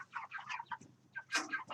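Chickens give short, soft clucks and chirps in quick bursts, close by and fairly quiet, with a brief pause before a louder cluster of calls.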